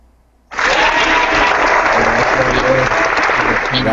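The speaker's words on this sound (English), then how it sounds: "Round of applause." Sustained applause from a crowd bursts in after a half-second of near silence and continues steadily at full loudness to the end.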